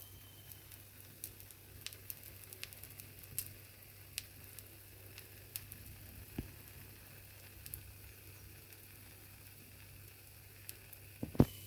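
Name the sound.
paniyaram frying on a low flame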